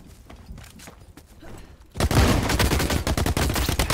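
Gunfire in The Cycle: Frontier: a quiet stretch breaks into a loud, dense volley of rapid shots that keeps going, close and heavy, with no talking over it.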